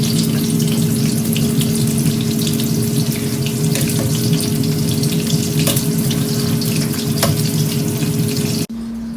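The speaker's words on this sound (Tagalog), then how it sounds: "look, lumpiang Shanghai, ito yung ating deep fry" Lumpiang Shanghai spring rolls deep frying in a home kitchen, a steady loud sizzle and hiss of bubbling oil running continuously without talk, cutting off abruptly near the end.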